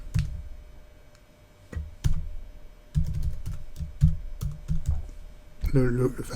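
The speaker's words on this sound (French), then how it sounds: "je vais devoir taper l'identifiant" Login details being typed on a computer keyboard, a run of clicky keystrokes in short bursts and pauses, close and fairly loud, ending with a brief voice.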